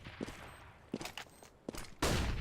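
AK-47 gunfire in a Counter-Strike match: a few short separated bursts of rifle shots, then a louder sustained burst at the end, fairly close with faint footsteps between.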